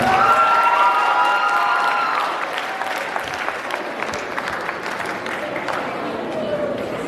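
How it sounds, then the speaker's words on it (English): Audience at a Black History Month program applauds performers, with whistles and cheers over the clapping at first, then settling into steady applause mixed with crowd chatter. "Give another round of applause for all of them"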